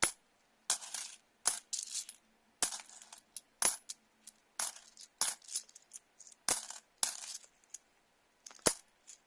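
British 50p and 10p coins drop one after another onto a surface, a close series of sharp metallic clinks and jingles in irregular bursts with quiet gaps between, no talking.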